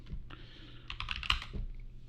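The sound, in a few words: typing on a computer keyboard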